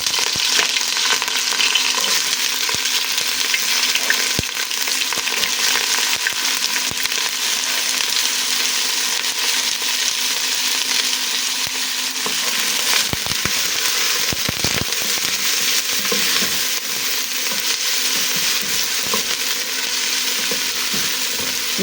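Paste fries in hot oil in a pan while wheat rice is being cooked, giving a loud, close, steady sizzle with crackling pops throughout.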